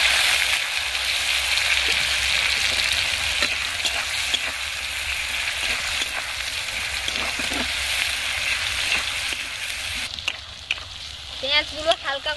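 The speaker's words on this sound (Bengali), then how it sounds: "এর মধ্যে আমি পেঁয়াজ কুচি দিয়ে দিচ্ছি।" Chopped onions added to oil with whole spices frying for a chicken curry, a loud dense hiss of sizzling with occasional stirring knocks, close up, and a voice briefly heard near the end.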